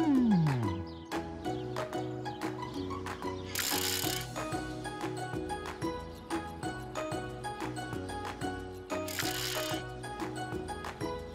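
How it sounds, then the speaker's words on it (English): A ratcheting sound effect as ramps are screwed into place during a cartoon construction build, layered over steady background music, with two bright ratchet bursts. "you'll be able to drive onto the ramps and screw them into place"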